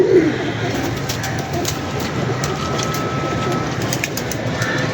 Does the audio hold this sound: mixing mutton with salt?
no